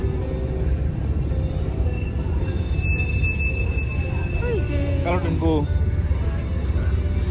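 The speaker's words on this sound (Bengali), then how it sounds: "পাশ দিয়ে ট্রেন যাচ্ছে" A train passing by near lakes and a river, with a steady low rumble and a high, drawn-out wheel squeal, while people talk briefly nearby.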